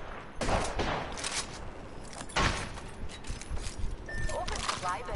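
Gunfire rings out in Apex Legends during a pubs match, with several bursts of shots and sharp transients scattered across the stretch amid game noise and voice chatter.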